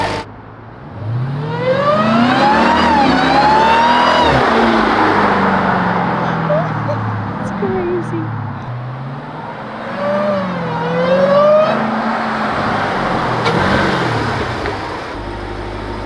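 A Jeep Trackhawk engine revs loudly in rising, climbing bursts, roaring close by and falling away twice, with a brief spoken remark over it.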